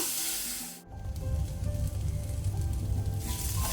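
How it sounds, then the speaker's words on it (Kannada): Onions fry in a pan for a Bengali potato and clam dish, giving a steady close sizzle after a brief stir, with no talking. "ಈರುಳ್ಳಿ ಒಳ್ಳೆ ರೀತಿ ಫ್ರೈ ಮಾಡುವ."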